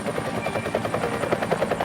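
A Westpac rescue helicopter at the John Hunter hospital thrums with steady, fast rotor blade pulses, close and continuous.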